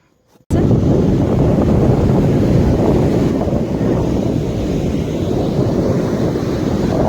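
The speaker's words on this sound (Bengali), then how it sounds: "আর এই দেখো চলে এসেছি বিচের ধারে" Loud, continuous roar of surf and wind on the beach at Puri, with blustery wind buffeting the microphone throughout after a brief quiet start.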